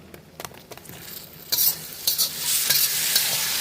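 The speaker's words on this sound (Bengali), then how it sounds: "মশলাগুলো দিয়ে ভালো করে কষিয়ে নেব।" Spices and chopped tomato sauté in a hot pan for crab curry, starting as a quiet stir and turning into a loud steady sizzle with scraping strokes after the tomato goes in. Nobody speaks.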